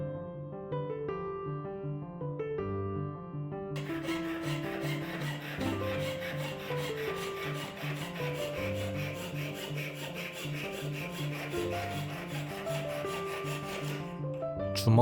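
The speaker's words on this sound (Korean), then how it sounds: "세공용 실톱으로 황동판을 오리려고 움직이면 황동가루가 계속 생겨납니다" Rapid, steady rasping strokes of a jeweler's saw cutting through brass sheet, close and continuous over background music.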